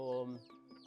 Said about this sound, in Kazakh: кейбір үйлерде тауықтар да осы жерде ұйықтайды